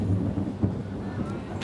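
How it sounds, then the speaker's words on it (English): Thunder rumbles low and steady in the background at an outdoor archery World Cup compound final in Medellin, a continuous rolling roar with faint rain-like hiss, alongside a commentator's voice. "As you hear the thunder in the background."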